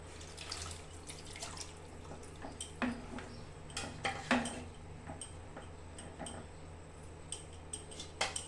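A small amount of water poured into a pan of frying paneer, giving soft splashing and liquid trickles with scattered light clinks and taps of a utensil against the pan, fairly close.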